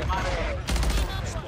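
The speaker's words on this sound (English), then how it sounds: "I'm shooting a redeploy down so nobody can land on it" A short burst of rapid gunfire in Warzone 3 aimed at a redeploy balloon, dense crackling shots close by within about a second and a half, with game noise underneath.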